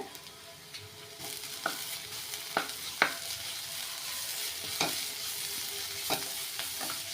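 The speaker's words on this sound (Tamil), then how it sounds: "இப்போ வெங்காயம் கூட ஃப்ரை பண்ணி விட்டுருங்க" Onions frying in a pan with ground garlic, cardamom and clove paste for a spicy small prawn varuval, a steady close sizzle broken by sharp scrapes of a spoon stirring at irregular intervals.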